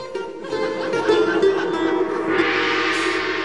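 A train heard up close and loud for the whole stretch: a steady, sustained horn-like tone rides over rumbling wheels, with a hissing rush of noise swelling in toward the end. No voices are heard.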